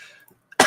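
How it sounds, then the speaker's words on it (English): A single sharp cough bursts out close by, loud and abrupt after a moment of near silence. "Still got this little lingering bullshit cough."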